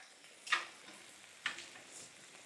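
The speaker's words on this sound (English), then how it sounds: "We are cooking this over a high heat right now, just to get everything all nice and browned up." Moose burger browning over high heat in a pan on a woodstove gives a faint, steady low sizzle, broken by two brief sharp crackles or pops.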